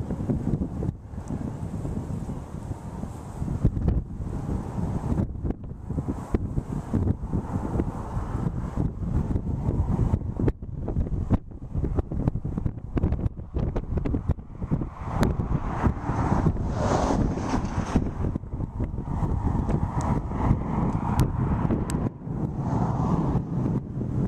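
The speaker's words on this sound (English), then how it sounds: "Windy day out here." Strong wind at a Texas wind farm buffets the microphone throughout, a continuous low roar with gusty rises and dips and no voices.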